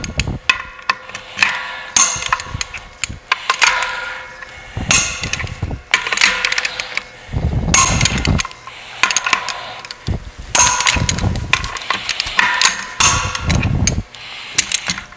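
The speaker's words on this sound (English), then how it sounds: "Once the cover nuts are tight, we're going to torque them to 75 foot-pounds with a torque wrench." Torque wrench tightening clutch cover nuts on a RAM billet drag racing clutch, with repeated close ratcheting clicks and metallic mechanism noises in short bursts separated by brief pauses, no talking.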